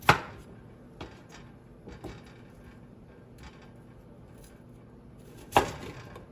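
A sharp knife chops food on a board while making conchitas: a handful of crisp, separate chops spaced a second or more apart, with quiet gaps between them and a louder final strike.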